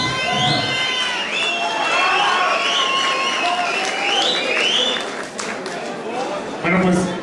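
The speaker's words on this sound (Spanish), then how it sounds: "Un aplauso, por favor," An audience at an awards ceremony in Valentino claps and cheers, with a sustained wash of applause and excited voices under a speaker talking over it.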